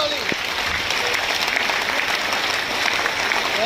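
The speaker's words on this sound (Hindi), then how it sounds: "एक बार हाथ जोरदार ताली" Loud, steady applause from a crowd at a training program in Bongaigaon, filling the whole stretch evenly with dense clapping.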